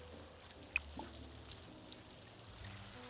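Watering plants in a video game, a soft faint drip and trickle of water with a single brighter splash near the start, set against quiet game background ambience.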